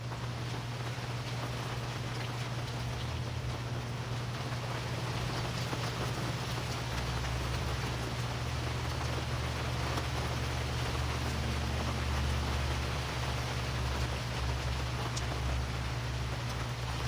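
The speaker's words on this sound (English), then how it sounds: "it's definitely raining out here" Rain falls steadily outdoors as an even, continuous hiss of drops with a low hum beneath, no voices.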